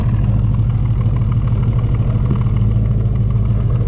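A Ford Maverick engine with Edelbrock Pro Flo 4 fuel injection idling steadily and loudly up close, a smooth, low continuous rumble with no talking.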